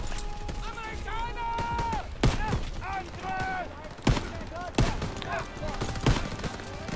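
Gunfire from the video game Call of Duty WWII, fought while clearing a bunker: sharp, separate shots crack out at irregular intervals among game sounds, with players talking throughout.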